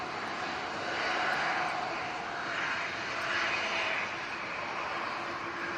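EasyJet airliner climbing out on departure against a strong wind, its jet engines giving a steady, broad roar that swells slightly and holds for several seconds at a moderate distance, with no other sounds over it.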